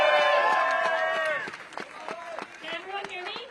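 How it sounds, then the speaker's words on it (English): A crowd at a union rally over newspaper layoffs cheers for speaker Molly Hensley Clancy, with loud whoops and shouting voices over scattered, uneven clapping that thins out toward the end. "Everyone give Molly a round of applause."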